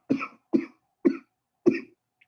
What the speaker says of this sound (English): Okay, I'm going to cough, so just beware.